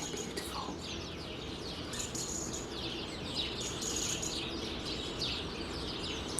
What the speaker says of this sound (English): But listen to that bird song.